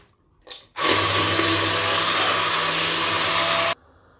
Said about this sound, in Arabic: غادي نطحنه بالميكسور وغير بشويه باش ما يطيبش عليكم الاخر